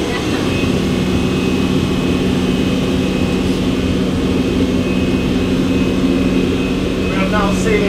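A Jet Capsule mini yacht runs at about 20 knots, its engine giving a loud, steady roar with a low hum. The roar continues unbroken from start to finish, with a faint chirp near the end.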